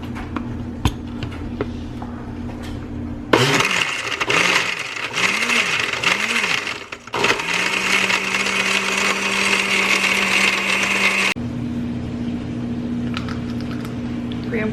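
A blender crushes frozen blueberries, vanilla protein and almond butter into protein shakes, starting abruptly with a loud grinding whir that pulses through several surges, then settles into a steady high roar before cutting off. A background hum sounds before and after.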